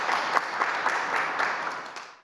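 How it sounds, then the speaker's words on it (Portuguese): Crowd applause honoring the upcoming new saints at a Vatican event, a dense, steady roar of many hands clapping from a large gathering that fades out at the end. "Uma salva de palmas para os próximos novos santos."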